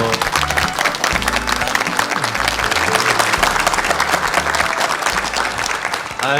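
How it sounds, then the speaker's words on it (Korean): Sustained applause from a sizable studio audience on a Korean TV morning talk show, dense and steady clapping filling the room, with faint music or murmurs beneath. "박수로 환영해 주시면 예, 고맙겠습니다."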